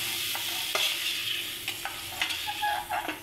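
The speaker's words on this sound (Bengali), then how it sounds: "চিংড়ি মাছটা আমি অল্প তেল দিয়ে শুধু নেড়ে তুলে নিলাম" Prawns fry in a little oil in a kadai and are stirred, giving a steady close sizzle broken by scraping stir strokes. No one talks.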